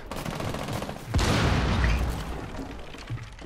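Heavy automatic gunfire rattles through a video game firefight, a dense burst of rapid shots swelling into a loud booming volley mid-way, then tapering into scattered fire.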